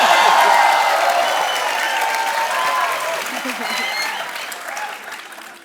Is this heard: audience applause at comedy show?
yes